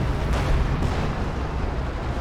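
Katyusha rocket artillery barrage in the strategy game Company of Heroes 2, a continuous loud roar of overlapping explosions and rumbling bursts filling the whole moment without talk.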